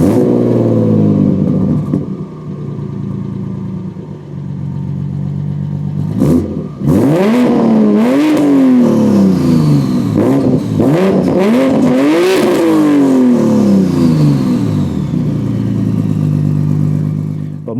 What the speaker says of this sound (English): Honestly, that was one of the cleanest sounding single exhausts that I've heard.